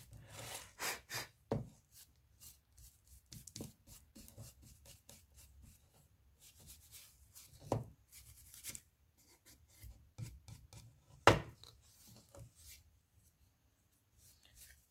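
Scattered light rubbing and rasping strokes on a painted wooden coat rack as wax crumbs are rubbed off, faint and intermittent with quiet gaps and a few sharper knocks.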